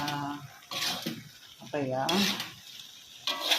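Chicken with coriander and spices stirred in a pan on the stove, soft scraping and light sizzling in short bursts, close by, with someone talking over it.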